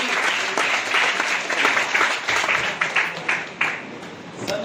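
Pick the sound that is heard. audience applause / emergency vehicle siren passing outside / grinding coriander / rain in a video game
audience applause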